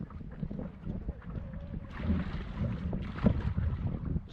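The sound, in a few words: strong headwind blowing on a lake while canoeing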